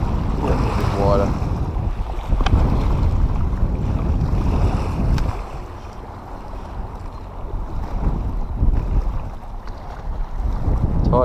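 Steady wind buffets the microphone and rushes over open water while fishing from a small boat with soft plastics on a running-out tide, with low wave wash underneath and a brief faint voice.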